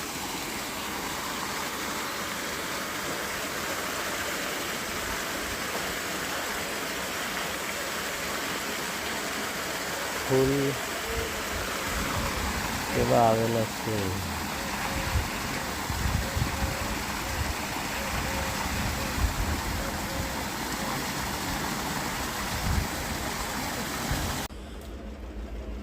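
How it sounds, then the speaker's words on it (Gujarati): A borewell pump runs with fresh water pouring out for buffaloes, a steady, loud broadband rush lasting throughout, with a brief voice speaking partway through. "બોર ચાલુ કરીને તાજું પાણી ભેંસો માટે ચાલુ કરી દીધું છે"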